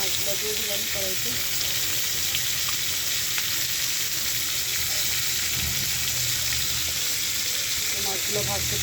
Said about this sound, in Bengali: মাছগুলো ভাজতে থাকি